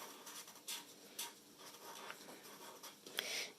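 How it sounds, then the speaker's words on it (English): A pen writes a word on paper, giving soft, close scratching strokes in short bursts with brief pauses between them. "So I'm gonna write cuddles down"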